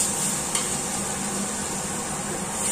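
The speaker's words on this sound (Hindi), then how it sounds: "गाइस दाल उबल चुकी है, अब इसे छौंकते हैं, कढ़ाई में रखते हैं।" Boiled dal being tempered in a kadai sizzles steadily with a bright hiss, a brief scrape of stirring near the start, close and alone.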